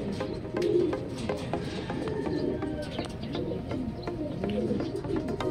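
Older racing pigeons cooing continuously nearby in a loft, low throaty calls overlapping one another at moderate volume with no talking.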